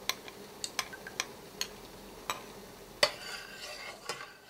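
A spoon stirs coconut milk sweetened with agave in a pot, making sparse, faint clinks and taps against the metal at irregular intervals over a quiet background.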